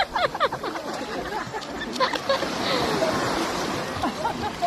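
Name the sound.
ocean waves at the beach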